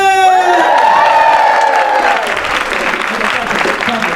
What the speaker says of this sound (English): I want a round of applause also